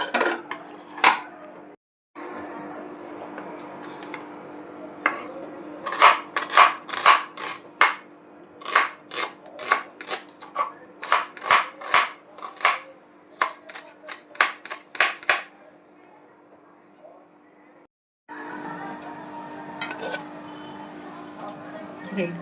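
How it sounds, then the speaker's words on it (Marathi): Soya chunks and bread crumbs are chopped with a knife on a board in a series of sharp, quick taps, some in rapid runs and others spaced out, over a low steady background hum. "सोया चंक्स, ब्रेड क्रम्स आता आपल्याला कापायचे आहेत."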